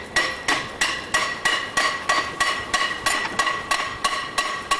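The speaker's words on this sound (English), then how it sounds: "Stick the tie plate under the lip and hit the plate with a hammer." A hammer strikes a steel railroad tie plate again and again in a steady rhythm, about a dozen ringing metallic blows in quick succession, each one sharp and bright with a brief ringing decay, close by and with no talking.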